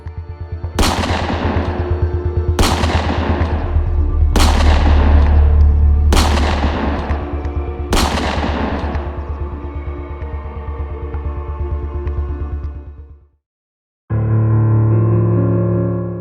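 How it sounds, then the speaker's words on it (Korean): Five loud, booming gunshots ring out at steady intervals of roughly two seconds, each with a long decaying echo over a low continuous hum, followed by a short silence and a sustained droning tone. "무덥던 어느 날 나는 남편을 총으로 쐈다."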